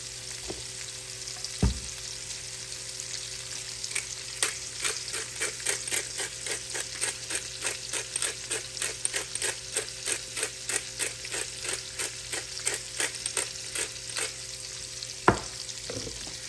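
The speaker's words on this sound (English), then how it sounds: "we're just gonna give this all a good stir and kind of let some of that like deglaze the pan" Apples and chicken are stirred in a hot pan to deglaze it for bourbon apple chicken, producing a steady sizzle overlaid with a long run of quick, regular utensil scrapes and taps, close and clear with no talking.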